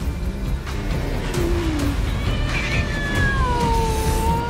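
A cat in a game trailer meows in rising and falling wails, drawn out and fairly loud, over a busy musical and effects bed with a steady rumble underneath.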